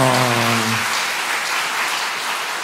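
Applause from a church congregation fills the room with dense, steady clapping that holds throughout, while a trailing voice or sustained tone fades out in the first second.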